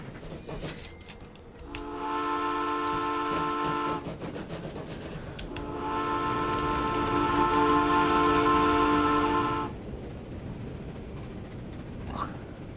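A steam train in the video game Transport Fever 2 chuffs and rumbles loudly past in two long sustained passes, with a brief lull between them and a steady hiss around.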